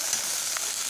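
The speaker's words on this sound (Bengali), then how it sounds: "এবারে এই মশলাটাকে কষাবো" Masala paste made with ground spices sizzles steadily as it is sautéed in a pan for a cauliflower and pea curry. A brief, continuous hiss of frying stays close and fairly loud throughout.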